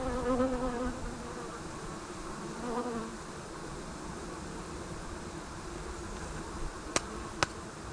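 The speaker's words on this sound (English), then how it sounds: "And there's still bees in here." Honey bees buzz steadily inside an open hive box during a Taranov split swarm-prevention inspection, a dense continuous drone throughout with a couple of sharp knocks near the end.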